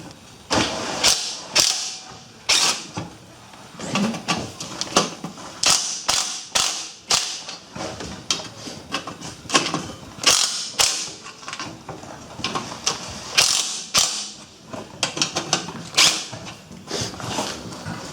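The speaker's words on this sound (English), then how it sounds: "let's see if we can get these bolts off without them breaking out. 3/8 socket will take care of it." Ratchet with a 3/8 socket working on bolts of an MTD riding mower engine, giving repeated bursts of clicking and grinding with short pauses between, close and fairly loud, with no talking.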